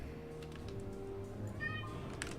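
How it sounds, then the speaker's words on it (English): Cat meowing in a short, fairly faint call near the end, under low background hum and soft game sounds. "She's got a pretty loud meow."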